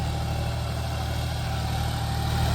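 A 40-horsepower John Deere 5105 tractor pulls an 8.5-foot Maschio rotavator through a rain-soaked field, its engine giving a steady, moderately quiet low hum that stays even throughout, with no talking.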